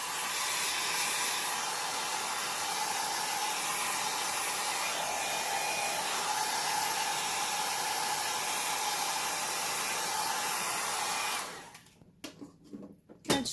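A handheld blower dries wet acrylic paint on a canvas with a loud, steady rushing hiss that runs continuously for about eleven seconds, then cuts off, leaving faint handling noises.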